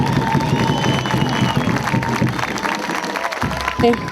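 A crowd claps and cheers at an outdoor campaign closing rally in Juan José Castelli, Chaco, with mixed shouts over steady applause and a voice on the loudspeaker briefly rising near the end.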